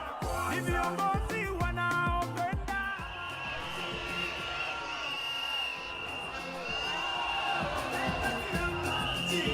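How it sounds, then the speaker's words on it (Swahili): A large outdoor crowd at a political rally applauds and cheers for Ndindi Nyoro, a loud, sustained roar of clapping and whoops. Music and voices play over the ovation at the start, and the cheering rises again near the end. "Wapi makofi ya Ndindi?"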